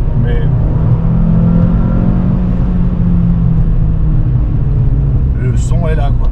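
A Renault Clio 2 R.S. Trophy driving at low revs, its exhaust a loud, steady low drone with a faint rise in pitch, heard from inside the car as people talk over it.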